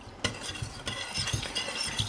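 Spoon stirring in a pot while pickling red onion, a run of irregular close scrapes and soft knocks against the pot over a low background hiss.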